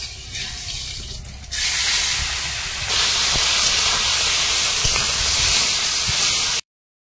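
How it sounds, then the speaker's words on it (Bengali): Small pond fish fry in very hot oil in a wok over a wood fire outdoors, making a loud, steady hiss and sizzle that jumps up in intensity as they go in and keeps going until it cuts off abruptly. "ওদিকে মাছ ভাজা হচ্ছে"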